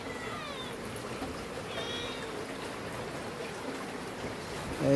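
Faint, high kitten mews rise briefly over a steady wash of rain and rushing floodwater, with a louder noise at the very end.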